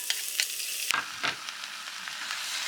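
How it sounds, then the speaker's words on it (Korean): Onion, fish cake and kimchi stir-frying in a pan, with a bright steady sizzle and a few sharp stirring knocks and scrapes close by. "이제 양파와 어묵, 김치를 넣고 볶아줍니다."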